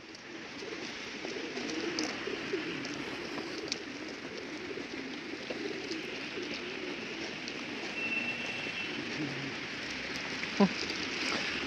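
Birds perched in a tree on a city street by Chistye Prudy in Moscow, with pigeon-like cooing and scattered calls over a steady wash of outdoor noise, plus a brief vocal murmur.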